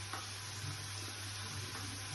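Turmeric powder dropped into a sizzling pan for a Bengali chola dal curry with chicken and prawns, a faint steady sizzle with soft stirring scrapes and no talking.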